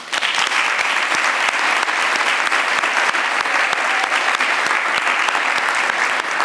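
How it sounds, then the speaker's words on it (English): A dinner audience applauds students being honoured at a diversity awards event, giving a loud, dense, sustained ovation of many hands that runs unbroken throughout. "Let's give them a round of applause."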